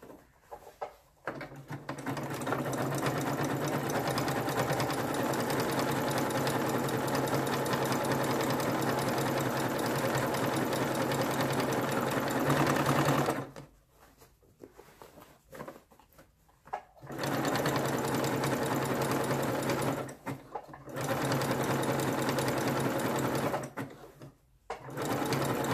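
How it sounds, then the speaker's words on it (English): A sewing machine zigzag stitching a jeans hem runs in long steady bursts of rapid whirring, stopping briefly a few times before starting again, close and alone. "But I'm gonna use my zigzag stitching,"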